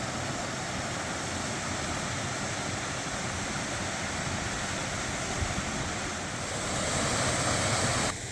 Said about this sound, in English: Just look at these waterfalls.